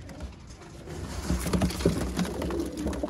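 Pet pigeons kept in a breeder's cages give low, soft cooing close by, with faint background rustle and no talking.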